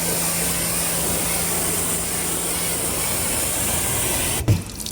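A steady, loud hiss of a pressurized sprayer coating a car's sides runs continuously, then cuts off abruptly near the end with a brief knock.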